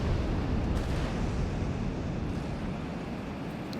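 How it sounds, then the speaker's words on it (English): A bomb dropped from a plane in World of Warplanes erupts in a deep, loud rumbling blast that fills the clip and slowly fades, with no voices over it. "Let's drop a bomb right there."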